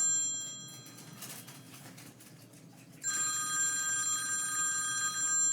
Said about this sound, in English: Come answer this phone.